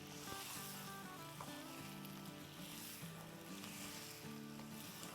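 Mutton and potatoes fry steadily in a pan for aloo gosht, a continuous close sizzle with faint tonal music running underneath throughout.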